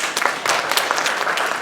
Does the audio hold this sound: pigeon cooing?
no